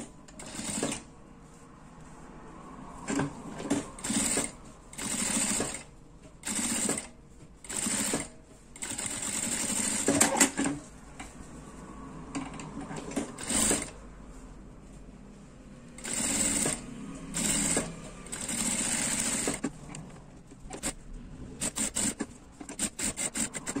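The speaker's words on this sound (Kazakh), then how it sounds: "Енді астарына мынаны қойып, айнала бір тігіп өтеміз" A sewing machine stitches around a handbag lining in repeated short, fast bursts separated by pauses, close and clear with a rapid mechanical chatter.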